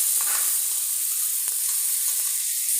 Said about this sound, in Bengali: আলুগুলো ভাজা ভাজা হয়েছে এখন মশলা দিয়ে দেওয়া হচ্ছে